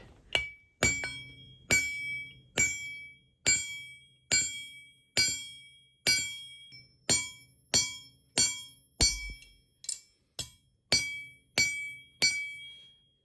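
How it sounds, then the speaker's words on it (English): About seventeen sharp, ringing metallic strikes land at a steady, unhurried pace as red-hot metal is hammered flat, each clink decaying before the next, with no voices. "I want to hammer this end flat so we can drill a hole through it"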